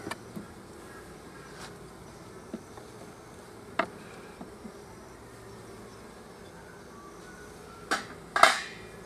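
Honey bees at an open beehive give a faint, steady buzzing with scattered light knocks and one louder buzz near the end, no voices.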